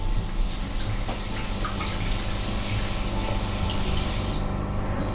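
Japanese rice is gently stirred by hand in a bowl of water while being rinsed, giving a steady, soft sloshing and swishing of water that continues without pause and with no one talking.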